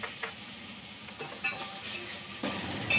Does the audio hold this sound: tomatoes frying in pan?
yes